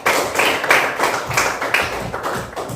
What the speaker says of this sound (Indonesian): tepuk tangan buat Arya ya